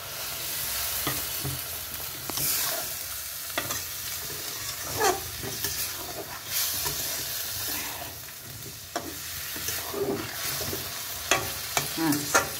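Okra fries in a pan after a sprinkle of water, sizzling softly while a utensil stirs and scrapes in irregular bursts, with sharper clinks toward the end.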